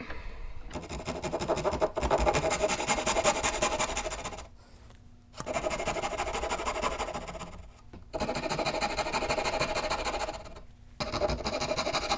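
A wooden fence board clamped in a vise is hand-cut, giving a steady rasping saw sound in long continuous bursts with brief pauses between strokes, close and fairly loud.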